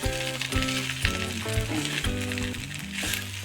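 Goat head meat fries in a pan with a steady, close crackling sizzle and occasional stirring scrapes, heard alone without talk.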